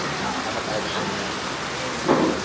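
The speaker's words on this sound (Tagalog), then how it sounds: "Malakas pa rin ulan guys." Heavy rain from a typhoon pours down steadily at close range, a dense continuous hiss with no pauses, and a brief swell near the end.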